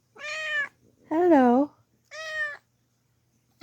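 Miss Cherry the cat meows close by, with three drawn-out, tonal meows evenly spaced and a fourth just beginning, in a quiet room. A brief spoken greeting is also heard.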